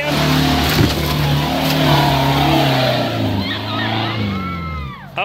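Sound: Can-Am off-road vehicle engine revving close by

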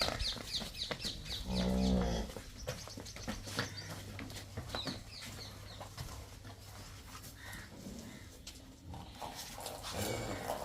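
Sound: cows on a dairy farm

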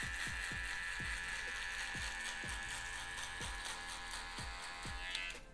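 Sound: electric hair trimmer cutting hair

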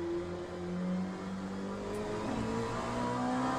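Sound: Oreca 07 LMP2 race car accelerating out of a turn, video game

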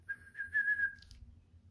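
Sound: person whistling imitating a bird

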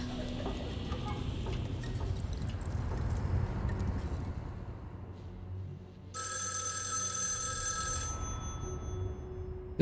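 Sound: telephone ringing in the video game Erica

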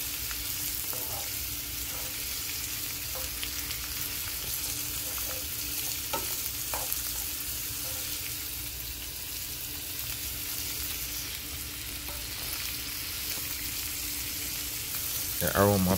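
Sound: onion, garlic and sweet pepper frying and being stirred

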